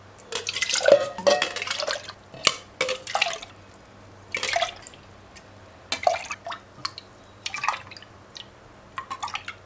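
Haytalı dessert syrup poured into a container, with a series of irregular drips and splashes of liquid close by, quiet between bursts and no talking.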